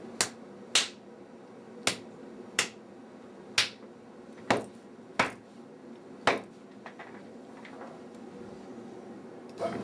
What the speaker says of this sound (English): I'm just cutting sound effects into this little karate scene that I edited just a minute ago.